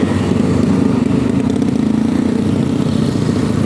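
Motorcycles idle and rumble at a street motorcycle parking area, a loud, steady engine drone holding close by with slight rises, and no voices.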